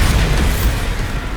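Bombarda explosion spell in Hogwarts Legacy: a short, loud burst of booming, crackling blast noise at close range, thick and continuous for its brief length, with no voices.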